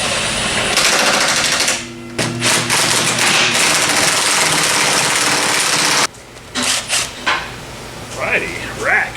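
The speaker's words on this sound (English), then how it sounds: "Be sure to run that down with an impact." An impact wrench hammers in loud rattling bursts of a few seconds each as it runs bolts down on a Capri, with short gaps between the runs and quieter clanks near the end.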